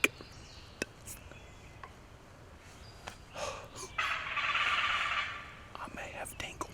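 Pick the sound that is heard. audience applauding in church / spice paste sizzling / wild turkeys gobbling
wild turkeys gobbling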